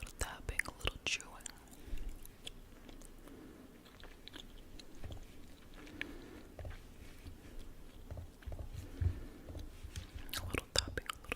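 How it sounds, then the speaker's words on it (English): Close-miked ASMR chewing, biting and light tapping with soft whispering, a quiet, irregular stream of wet crunches and crisp clicks that cluster more densely at the start and end. "a little tapping, a little chewing."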